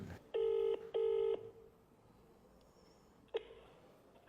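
Mobile phone dialing a number, two clear keypad tones in quick succession followed by a brief third beep, close and crisp against a quiet room.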